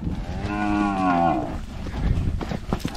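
A single cow lets out a long, loud moo close by in a pasture while cattle are being moved, followed by shuffling and trampling noises from the herd.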